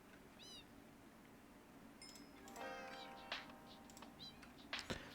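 Minecraft cats meow several times, short high mews scattered over a low background hum, with a few clicks and a soft thump near the end.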